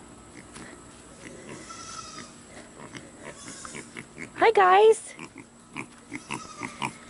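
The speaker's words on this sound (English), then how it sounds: "two micro pigs." Two micro pigs, a brother and sister, let out a loud squealing, grunting burst midway through, with people talking around them in a farm-animal setting.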